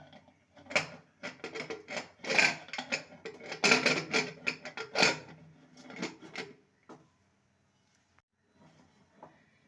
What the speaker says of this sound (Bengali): প্রেশার কুকারের লিডটাকে লাগিয়ে দেবো